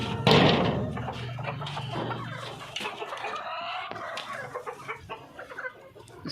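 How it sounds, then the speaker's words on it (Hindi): Hens let out of their coop cluck and squawk nearby, with a loud burst at the start and then scattered calls. A door or latch knocks once or twice. "लो जी, हमने ये मुर्गियाँ छोड़ दी हैं"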